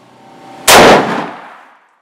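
A single loud, close shotgun blast from a Remington 870 Express fired while being sighted in, a sharp report followed by a long fading rumble over about a second, with no talk.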